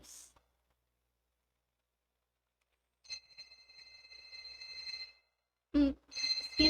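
A phone rings with an incoming call, heard as a steady electronic tone from about three to five seconds in, followed by a short louder burst of sound near the end.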